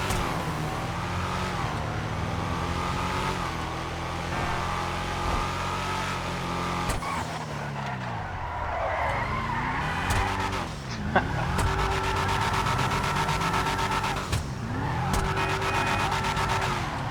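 A Declasse Yosemite drift truck in Grand Theft Auto V revs and slides, its engine rising and falling through gear changes while tyres squeal in repeated skids, loud and continuous for the whole stretch.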